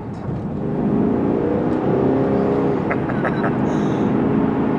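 A 2017 Ford Mustang GT's 5-litre V8 revs hard and holds a loud, throaty roar throughout, close by, with a few brief higher whines near the end.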